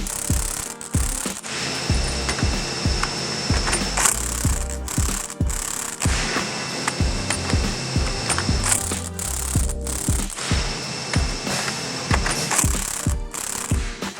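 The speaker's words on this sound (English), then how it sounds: "Tighten up the compressors on both sides." A hand ratchet cranks coil spring compressors tight while installing coilovers on a Chevy Cruze, with steady repeated clicking strokes in rhythmic bursts, close and loud, with brief pauses between runs.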